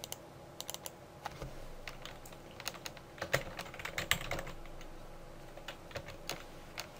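Fingers tap out a file name on a computer keyboard in quick, uneven bursts of close, crisp keystrokes, pausing briefly between clusters, with no voices.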